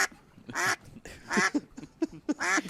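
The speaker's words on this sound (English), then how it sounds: "a very aggressive duck" An aggressive duck quacks in a series of loud, harsh, nasal calls, about five bursts in uneven rhythm, close to the listener with nothing else competing.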